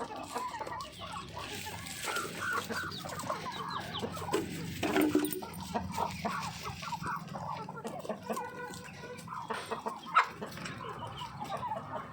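Chickens cluck softly and intermittently nearby while eating prawn heads, with faint pecking and light background noise.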